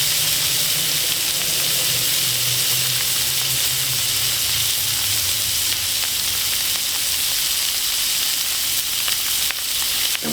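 Meat searing on a camping grill, a constant loud sizzle with crackling spatter and a low hum underneath, alone without speech.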